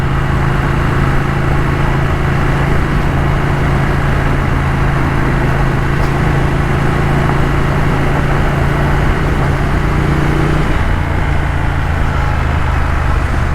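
A 2021 Triumph Thruxton RS twin-cylinder motorcycle engine runs with a steady, loud, close throb that holds evenly throughout, its low rumble shifting slightly near the end.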